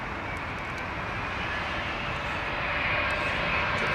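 A large airliner roars at London Heathrow Airport, a loud, close, sustained engine rumble and whine that swells slightly toward the end, with no talk over it.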